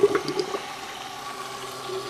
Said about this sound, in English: I'm just going to fill it all the way up again. And keep doing power cycles until the loop is pretty much all the way filled up.